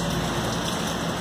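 Heavy rain falls in a steady, dense hiss with no breaks or voices.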